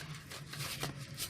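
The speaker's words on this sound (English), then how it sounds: "One more shuffle they request." Tarot cards being shuffled by hand, a soft continuous riffling rustle with brief crisp flutters, fairly quiet and close with no talking.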